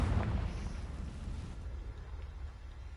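A Confringo blasting spell explodes in a Harry Potter video game, opening with a loud, rumbling burst that decays into a long fading roar, with no voices.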